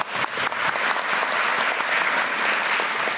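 Attendees at a government ministry work briefing give a burst of applause: a thick, continuous wash of clapping from a roomful of people, steady and fairly loud throughout, with no speech over it.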